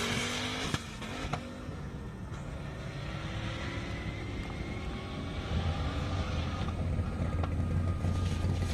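A blue 2010 Camaro drag car with 1,500 horsepower, a big downforce wing and a parachute roars down an airstrip, its engine rising in pitch in a long, steady, loud run at some distance.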